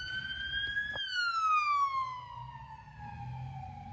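A police car siren wails with a high, clear tone that jumps, then slides steadily downward in pitch as the vehicle passes. A low traffic rumble sits underneath.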